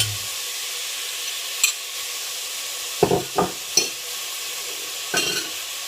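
Onions sizzle softly in a pan for an okra curry, a steady hiss punctuated by a handful of brief, distinct stirring scrapes and clunks.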